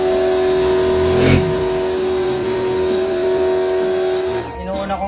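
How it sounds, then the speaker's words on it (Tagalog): A pressure washer runs while a vehicle is being washed, a loud, steady motor drone with a constant whine that carries on for several seconds, then shifts and thins near the end. "gagamitan natin ng pressure washer"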